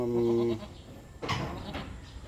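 Newborn Croesboer goat kid bleating loudly at a birth on a farm, one clear drawn-out cry up close, followed by faint rustling and background noise.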